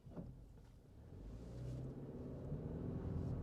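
A 2025 Subaru Forester's engine restarts after an auto start-stop shutdown, a faint, low rumble from inside the cabin that builds gradually and holds at a quiet, steady hum.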